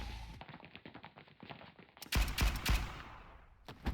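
Gunfire in the anime-style game Blue Archive: a rapid run of light shots at first, then a loud burst of heavy, booming shots in quick succession, fading out before one more shot at the end.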